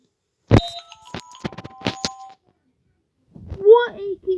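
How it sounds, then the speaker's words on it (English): A doorbell gives several sharp, ringing dings in quick succession, then falls silent before a voice speaks. "Maybe the doorbell is breaking down."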